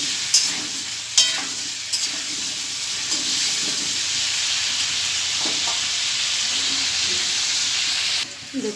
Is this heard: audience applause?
no